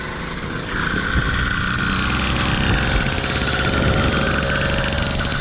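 A 2-stroke engine fitted to a motorized bicycle runs steadily and loudly up close, a continuous buzzing drone with a rough, knocking edge and no speech.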